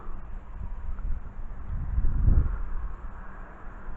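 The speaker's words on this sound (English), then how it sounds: "It seems like the wind." Gusty wind buffets a microphone outdoors in windy weather during a quadcopter test flight, a low rumbling that swells to a strong peak midway and then eases.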